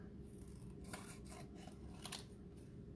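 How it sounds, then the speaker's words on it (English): Scissors snip through paper during a kids' tractor craft project, a few soft, crisp cuts spaced unevenly over a quiet room hum. "So cutting out my paper."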